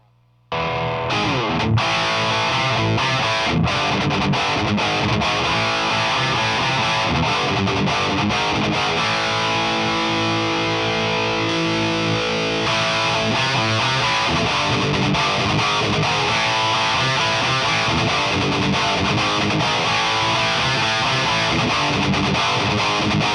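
An electric guitar played through a GUPTech DCD dual channel distortion pedal, heavily distorted and loud, with dense sustained chords and chugging riffs running continuously for over twenty seconds, with no talking.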